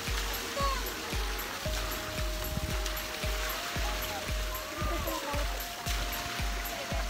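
Water streams and splashes steadily at a resort and ecology park, with a regular thumping pulse and a faint tone running through the rushing flow.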